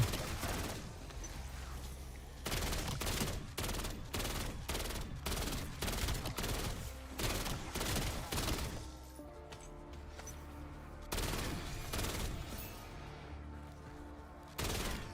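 Sokol LMG firing in Black Ops 7 Zombies, a game, in repeated long bursts of rapid automatic shots, loud and close, broken by brief pauses and a quieter stretch midway.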